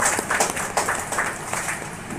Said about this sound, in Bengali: সব প্রত্যেকের কাছে অনুরোধ একটু করতালি দিয়ে অন্তত উৎসাহিত করার জন্য